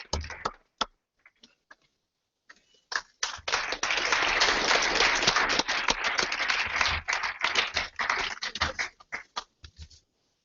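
Film festival audience applauding a guest: scattered early claps, then a sustained burst of loud, close applause for several seconds that tapers off into a few stray claps and silence.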